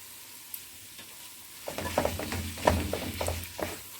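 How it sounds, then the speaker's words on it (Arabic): Minced meat drops into a hot pan of caramelized onion and garlic, bursting into loud crackling sizzle after a quiet start, with stirring scrapes and spitting pops close up. "بعد ما خلاص كده التوم احمر معانا والبصله كده اتكرملت معانا كده بالخضار بتاعنا، هنبدا ننزل عليه كده باللحمه المفرومه"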